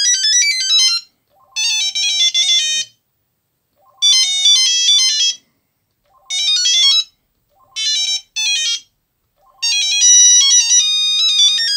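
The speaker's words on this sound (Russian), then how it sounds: "И вот здесь у нас есть рингтоны, можем их послушать. Они такие писклявые" A 1999 Trium MT140 Astral mobile phone plays a shrill, high-pitched polyphonic ringtone, loud and close, in several bursts of beeping melody separated by short silences.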